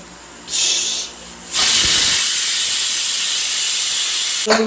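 A loud, sharp steam hiss bursts out, pauses briefly, then blasts continuously and close, like a pressure cooker venting while cooking beef.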